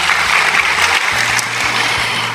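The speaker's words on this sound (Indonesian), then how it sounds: "Tepuk tangan yang meriah buat Tuhan Yesus" Lively applause from a church congregation fills the space, many hands clapping at once in a continuous, bright patter, with a low musical hum underneath.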